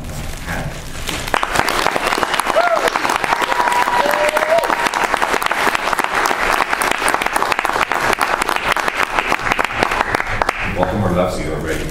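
Audience at a Baltimore Comic-Con panel gives sustained, loud applause welcoming guest artist Frank Quitely, dense clapping swelling after the first second and holding steady before tapering near the end, with faint voices underneath.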